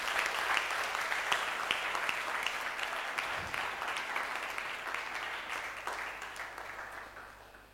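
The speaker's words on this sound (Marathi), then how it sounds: "टाळ्या वाजून देवाला धन्यवाद देऊया" A church congregation applauding together in thanks, a sustained, even wash of many hands clapping that holds for several seconds and gradually softens toward the end, with no voices over it.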